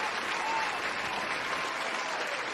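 Steady applause from a crowd for a basketball player, a dense wash of clapping that holds at an even level for a couple of seconds with no voices over it.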